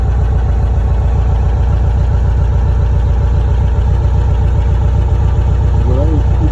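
A steady, low engine idle from a 1975 Volkswagen T2b Westfalia camper van rumbles continuously and evenly throughout, loud and close, with no revving.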